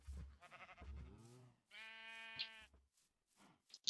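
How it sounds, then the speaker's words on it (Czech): Sheep in the video game Minecraft bleat in a few short wavering calls close by, followed by a couple of sharp clicks at the end. "Ovečky nahoře, ano."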